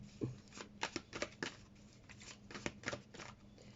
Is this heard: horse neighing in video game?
no